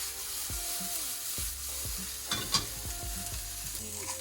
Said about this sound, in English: And we sauce it so that all the ingredients get incorporated.